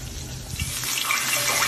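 Breaded chicken breast goes into hot corn oil, and a bubbling hiss swells after the first half second and stays loud and steady.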